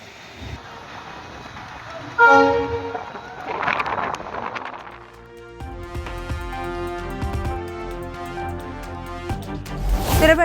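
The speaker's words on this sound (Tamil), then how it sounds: "பாம்பன் செங்குத்து தூக்கு பாலத்தில் முதல் முறையாக சரக்கு ரயில் சோதனை ஓட்டம்." A train horn blares, then a freight train on a trial run across the Pamban vertical lift bridge rumbles and clatters past with rhythmic wheel noise, closing with another loud horn blast.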